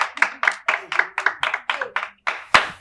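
A small group claps in a rhythmic series of about a dozen distinct, close claps, evenly spaced, ending with a couple of sharper strikes, in an African comedy scene.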